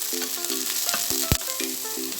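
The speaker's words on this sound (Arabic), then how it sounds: "شوح البصلايه شويه لحد ما تصفر معايا" Chopped green onion frying in hot oil in a pan, a steady close sizzle with a few stirring clinks and one sharp knock of a utensil against the pan.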